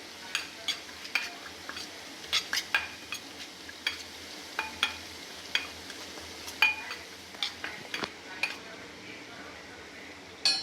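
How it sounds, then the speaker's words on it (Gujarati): A spoon stirring a dry spice mix of black salt, chaat masala and chili powder in a small bowl, with repeated light scrapes and clinks of metal on the dish, close and steady, without talk. "આ ત્રણેયને મિક્સ કરી લઈશું."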